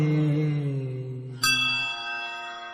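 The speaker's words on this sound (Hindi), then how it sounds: "घंटा" Bells ring within a devotional hymn: a sustained low tone fades out, then a bright bell strike cuts in and rings on with long, shimmering overtones, fairly loud and clear with no voice over it.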